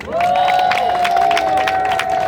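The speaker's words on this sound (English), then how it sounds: "Everybody clap for Eviani." A crowd claps and cheers loudly, with a sustained whistle-like tone riding over the dense applause.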